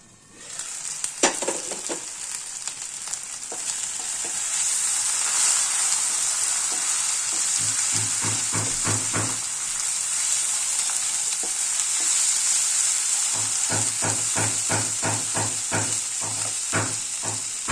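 Ground cumin, coriander and chilli powder sizzle loudly in hot frying oil with a steady hiss, while a spoon scrapes and stirs in bursts of rapid clicks.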